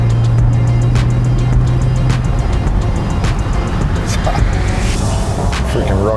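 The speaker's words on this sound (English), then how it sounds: "Hear it thunder down the road." Porsche driving along a road, its engine a loud, close low rumble with tyre and wind roar, a brief rising whine near the end, and people talking over it.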